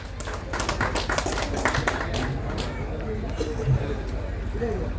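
An audience at a local council meeting breaks into applause for a speaker, a dense burst of clapping that starts quickly and tapers off, with murmuring voices underneath.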